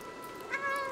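A single drawn-out meow from the cat character in Stray, close and clear, swelling halfway through and holding to the end over faint ambient game hum, with no one speaking.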